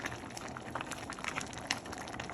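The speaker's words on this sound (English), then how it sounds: "I'll let it simmer for a few minutes" A pot of collard greens with smoked turkey simmers on the stove, giving a steady, dense bubbling that stays close and constant with no talking.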